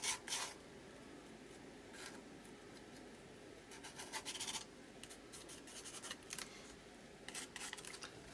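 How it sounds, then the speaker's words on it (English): A spatula scrapes across a work surface in brief rough strokes, close and fairly quiet, with a few louder scratchy bursts and no talking. "then I'll just scrape a little bit over this way."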